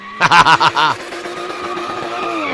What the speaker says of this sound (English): Maybe hear that big popping and squeaking of the turbos